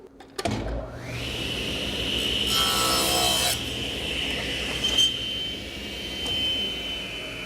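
Power miter saw making a miter cut in wood: motor spins up abruptly, then a loud sustained whine with a brief harsher burst as the blade cuts through, continuing to run steadily afterward.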